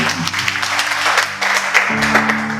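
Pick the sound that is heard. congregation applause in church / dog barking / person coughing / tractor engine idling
congregation applause in church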